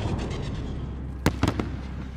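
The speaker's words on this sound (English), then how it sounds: "Launch a flare. We'll pick them off in the light. Illumination rounds." Illumination flare rounds launch with a few quick pops over a night-time field in Call of Duty: Modern Warfare, sharp reports over a low rumbling battle ambience.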